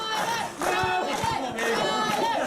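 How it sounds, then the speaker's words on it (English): A wrestling arena crowd roars and chants steadily to rally a downed Tyler Stinson, a dense loud mass of voices with a brief dip before swelling again. "Crowd trying to get Tyler Stinson back up."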